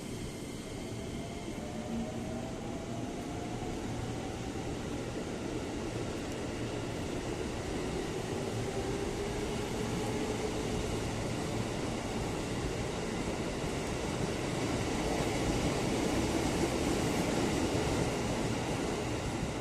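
A continuous low rumble of a train rolling past, with faint squealing tones rising and fading over a long, steady wash of noise.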